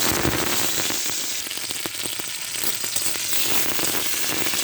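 Bitter gourd frying in hot oil in a wok, with nigella seeds added earlier, gives a dense, continuous sizzle and crackle, loud and close, with no talking.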